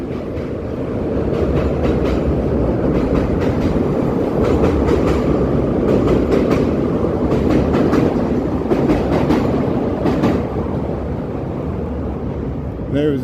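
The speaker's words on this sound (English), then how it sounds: "There was the sound of the elevated train above us there, the CTA train." Elevated CTA train rumbling overhead on a Chicago street at night, a steady loud roar with clickety-clack of the wheels that holds for the whole stretch, with faint voices mixed in.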